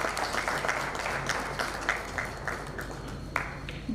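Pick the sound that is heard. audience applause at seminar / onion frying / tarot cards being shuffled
audience applause at seminar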